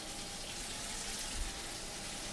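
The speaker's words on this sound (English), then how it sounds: "Yes, I know the water's running behind me. I can hear it." Water runs steadily from a tap in the background, a soft continuous rush with a faint bump partway through.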